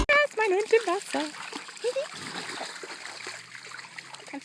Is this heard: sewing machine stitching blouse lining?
no